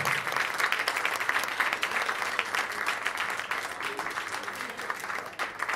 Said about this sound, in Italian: Un applauso alla compagnia San Fruttuoso